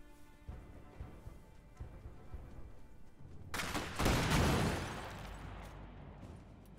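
Heavy machine gun fire in the Iron Harvest video game, with a dense burst of rapid shots swelling loud in the middle of the clip over quieter battle ambience and scattered pops.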